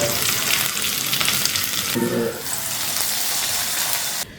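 Mustard seeds spluttering and popping in hot oil while being tempered for a koorka theeyal curry, a dense steady sizzle with crackles close by that briefly shifts midway and cuts off near the end.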